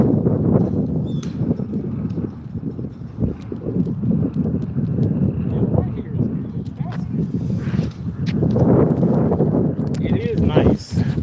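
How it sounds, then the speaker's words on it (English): Wind gusting outdoors, buffeting the microphone with low rumbling noise throughout, under near-constant talk from a man, with occasional clicks and footsteps. "Can y'all hear the wind?"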